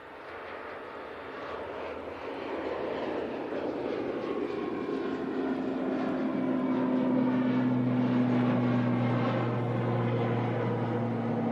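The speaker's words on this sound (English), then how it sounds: "It's a prop coming on before it." A propeller airliner takes off at Manchester Airport bound for the Isle of Man, its engines droning steadily and growing louder as it climbs, with a rising tonal hum and no talk.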